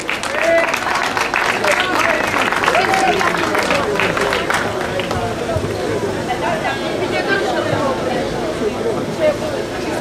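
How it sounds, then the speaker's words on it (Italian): A crowd applauds outdoors at the awards of a slalom car race in Oppido Mamertina, honoring the winner; a dense, steady wash of clapping runs the whole time beneath a loud announcer's voice and crowd chatter. "Ma l'applauso lo vorrei anche per Francesco Calarco"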